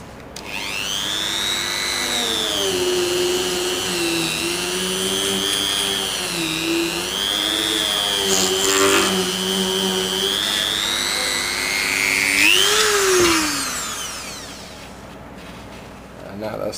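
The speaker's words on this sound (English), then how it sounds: "I'm going to drill out a lip on the inside of the hole" A power drill drills out an inner lip inside a hole in a surfboard for a GoPro fin plug, a loud steady whine that rises and dips in pitch with load, ending in a sharp pitch climb as it spins down.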